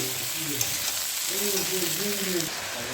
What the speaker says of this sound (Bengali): বেগুনটা একটু হালকা ফ্রাই করে নেব